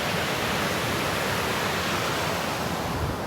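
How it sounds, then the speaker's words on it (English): Waterfalls and rapids at a Temagami campsite roar as a dense, steady rush of water, loud and unbroken, with no voices. "This view of the rapids here, or waterfalls. There's more waterfalls than rapids."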